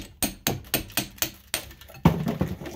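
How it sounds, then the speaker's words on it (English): Hammer blows tapping the copper windings out of an old microwave oven transformer, six or seven sharp metallic knocks at an even pace, close and clear, ending in a quicker flurry of lighter taps. "Just hammer that copper through."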